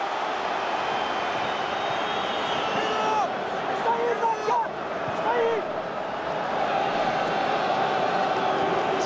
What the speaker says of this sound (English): You can hear the crowd responding to that.